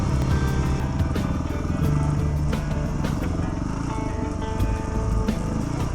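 A motorcycle engine drones steadily and loudly close by on a trail with rocky sections, its pitch shifting slightly as it rides over rough ground.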